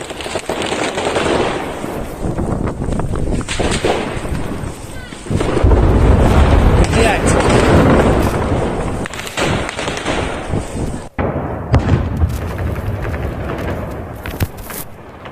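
Gunfire in war footage from Ukraine: repeated sharp cracks and bursts of shots over a noisy, roaring background, with a louder stretch midway and voices faintly mixed in.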